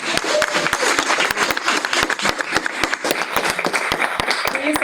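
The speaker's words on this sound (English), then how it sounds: "We receive you with a big round of applause." An audience at a university event claps to welcome a guest speaker, author Dahlma Llanos-Figueroa, with dense, sustained applause of many hands, loud and close, running unbroken throughout.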